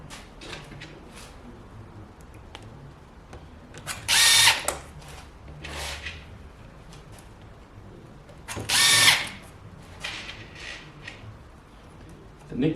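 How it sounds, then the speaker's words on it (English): A power drill drives fixings through pre-drilled holes in a Duralite panel, giving two short, loud whirring bursts a few seconds apart while someone talks steadily over quiet background noise. "drive tip, especially for the Duralite panel. Fixing through pre-drilled holes."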